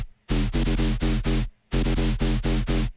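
Serum synth noise oscillator run through a filter, bursting in loud rhythmic chopped blasts of broadband hiss with a pitched low layer, two phrases separated by a short gap, alone and up front.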